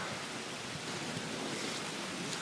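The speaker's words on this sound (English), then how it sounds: "Here's the real rain." Heavy thunderstorm rain in New Hampshire pours down as a dense, unbroken hiss, loud and steady throughout, with no voices over it.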